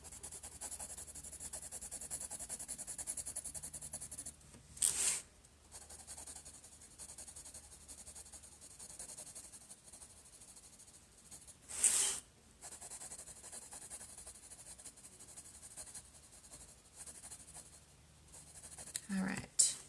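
Graphite pencil shading on sketchbook paper makes a soft, steady scratching and rubbing that runs quietly and continuously, with a few brief louder scrapes at intervals.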